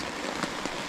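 Steady rain pattering on a fishing umbrella, a dense continuous hiss of drops with occasional heavier splats, close and fairly soft.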